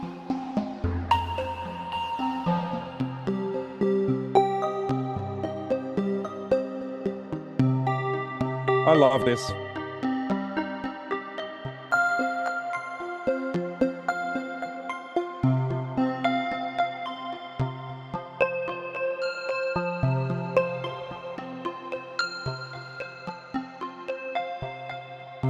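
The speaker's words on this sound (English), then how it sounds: "So what you're hearing is, while it's playing notes, it's also slowly crossfading between 4 different sound sources" Vector synth playing a slow melodic sequence of notes while gradually crossfading between four sound sources, producing a shifting, evolving tone; a voice speaks briefly over the quiet, steady music.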